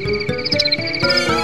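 Crickets chirp in a steady, pulsing rhythm, fairly close and clear, with no voices.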